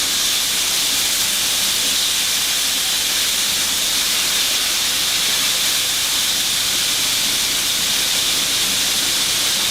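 Fish frying in hot oil produces a loud, dense, continuous hiss that stays even and unbroken throughout.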